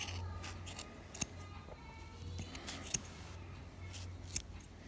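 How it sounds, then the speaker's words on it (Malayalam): Scissors snip through a tightly tied bundle of yarn for a pompom, giving a few faint, sharp, spaced cuts over quiet room hush. "ഇനി നമുക്ക് ഈ ഒരു പോർഷൻ കട്ട് ചെയ്ത് കൊടുക്കാം."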